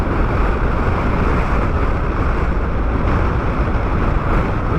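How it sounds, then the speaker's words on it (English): Strong wind roar buffeting the microphone while riding a BMW R1250 GSA motorcycle on a cold, windy day near wind turbines, a loud continuous low rumble throughout with no talking. "Interesting that all this wind suddenly coming in."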